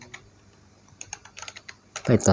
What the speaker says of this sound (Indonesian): kita ketikkan pip install